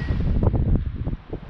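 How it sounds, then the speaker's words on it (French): Strong gusty wind on a hilltop buffets the microphone with low rumbling roar and uneven surges, steady and close throughout. "il y a tellement de vent."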